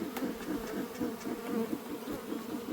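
Honey bees buzz steadily around a backyard hive fitted with two honey supers, a close, continuous droning hum with no voices over it.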